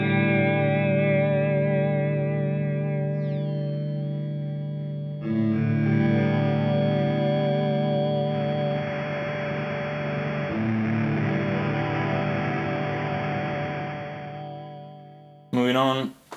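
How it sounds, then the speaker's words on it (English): Electric guitar played through a bit crusher effect pedal, giving sustained, harshly distorted and glitchy chords. The tone holds for several seconds, fades, and ends with a short loud burst. No one speaks. "we can apply the beat crusher after all that"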